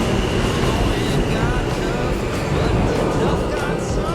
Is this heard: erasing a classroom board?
no